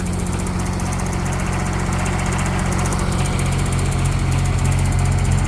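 A Yanmar 3TNV70 three-cylinder diesel engine, smoking and leaking oil after new injectors and glow plugs, runs at a steady idle, close and loud, with an even low chug and no talking.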